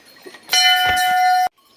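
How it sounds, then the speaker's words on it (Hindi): A large temple bell at a village gate is struck once and rings with a loud, bright metallic tone for about a second before it is cut off abruptly. "तो चलो एक बार भगवान कर्माजीत महाराज के नाम से इस घंटी को बजा लेते हैं"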